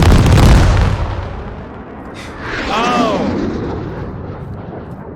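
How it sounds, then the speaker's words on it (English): Fireworks in a video game boom out with a deep, loud burst followed by a crackling, whistling tail that fades over a few seconds; a person exclaims briefly as the blast begins. "That was the fireworks."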